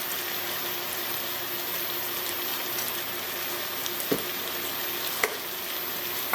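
Spices and ingredients for couscous stirred in a cooking pot, a steady close sizzle and frying hiss throughout, with a couple of brief spoon knocks against the pot.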